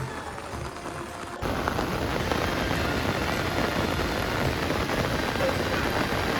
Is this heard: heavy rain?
yes